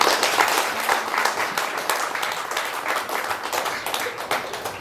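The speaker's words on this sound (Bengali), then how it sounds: "আসুন প্রভুর জন্য জোরে করতালি দেই" A church congregation at RCCG Potter's Place claps loudly for the Lord, giving sustained, dense applause that holds steady throughout with no pauses.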